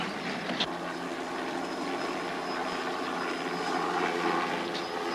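A helicopter flies overhead in an action-adventure TV drama scene, a loud, steady rotor and engine drone filling the whole stretch with no talking.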